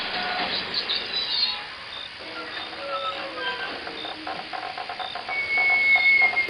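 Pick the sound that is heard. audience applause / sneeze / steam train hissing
steam train hissing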